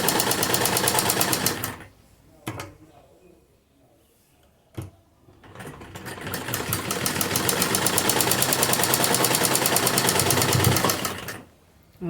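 A sewing machine stitches the shoulder seam of a kurti in loud, rapid runs, with brief bursts early on and a long steady stretch of stitching before it stops.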